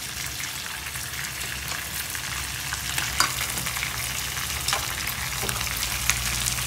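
Two medium-sized onions fry in hot oil in a pan for a chicken fry, giving a steady, close sizzle with faint crackles and occasional stirring scrapes, with no talk.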